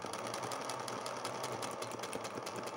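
Sewing machine stitching slowly along a large fabric table centrepiece, a continuous moderate mechanical hum with a fast even needle rhythm, close and without talk.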